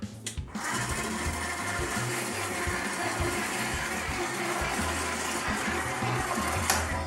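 Stand mixer beating eggs into colomba pascal dough, a steady close mechanical whir with rhythmic low thumping from the beater, continuous throughout.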